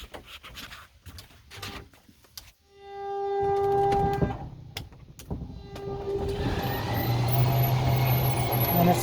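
An electric slide-out motor on a 2019 Ford-chassis Freedom Elite RV whirs steadily as the room extends, a mechanical hum with clunks and rattles that grows louder and rougher toward the end.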